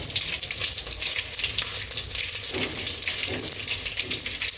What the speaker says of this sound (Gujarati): તેલ થઈ ગયું આપણે રાઈ નાખશું એમાં આપણે હિંગ નાખશું